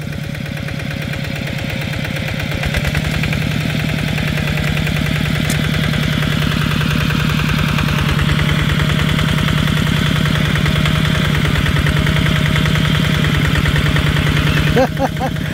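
Kubota RT155 tractor engine running steadily in a muddy rice paddy where it has become bogged down, a loud, even mid-pitched chugging drone sustained throughout with a brief clatter at the very end.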